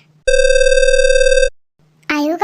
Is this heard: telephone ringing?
yes